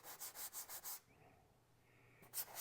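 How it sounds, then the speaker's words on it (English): Hand sanding of dried wood putty with a 120 grit sanding pad on stairway hallway woodwork: a quick run of five or six rhythmic rubbing strokes, a quiet pause, then two more brisk scrapes, close and fairly soft. "just take a 120 grit sanding pad and just kind of"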